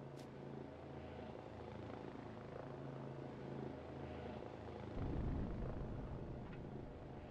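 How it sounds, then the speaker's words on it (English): Hostile drones in the sci-fi survival game Empyrion Galactic Survival keep up a steady rotor-like engine drone that fills the whole stretch and swells slightly louder toward the end, heard without any talk. "drones overhead."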